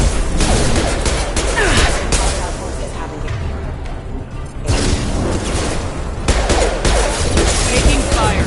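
Sustained gunfire from a firefight in the video game Mass Effect 2, with dense bursts and impacts filling the opening seconds, a brief lull, then renewed heavy shooting from about five seconds on.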